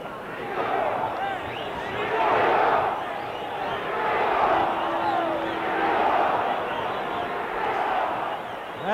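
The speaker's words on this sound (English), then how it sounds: "you hear the crowd picking up the chant for Ringo now" A large boxing crowd at Madison Square Garden swells into rhythmic chanting for a fighter, rising and falling in waves of massed voices heard from ringside, with a commentator's voice faintly under the roar.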